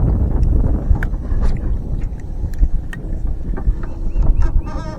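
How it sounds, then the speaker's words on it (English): Strong wind buffets a microphone outdoors beside a lake while fishing, a steady low rumble with gusts throughout, and a few faint higher chirps and splashes scattered over it. "The wind is making it a little more difficult for me than I wanted to be"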